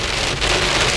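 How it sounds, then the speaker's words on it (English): Heavy rain pours down on a 500-horsepower rear-wheel-drive Mercedes C63 AMG, a loud, dense, steady hiss and drumming on the car with no gaps. "it's raining like this and we can't see"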